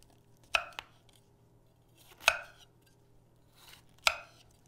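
A knife cuts a large head of cauliflower into florets on a cutting board, with three crisp crunching chops spaced about two seconds apart, close and alone.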